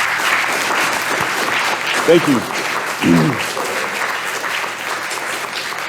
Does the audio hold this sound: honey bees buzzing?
no